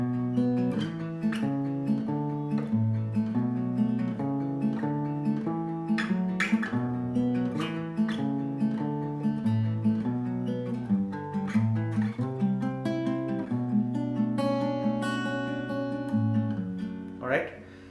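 Fingerpicked acoustic guitar plays steady plucked notes over a moving bass line, clear and close, with no voices.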